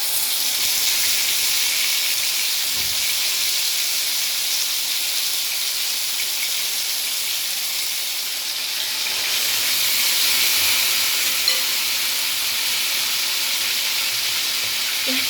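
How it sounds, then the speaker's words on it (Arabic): Chicken searing in ghee or butter in a pan, a steady broadband sizzle and hiss that holds evenly from start to finish with no talk over it. "هحط لها بقى الفراخ تتلسع"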